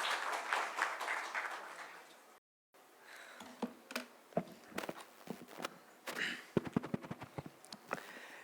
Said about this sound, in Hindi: जोरदार तालियों के साथ स्वागत कीजिएगा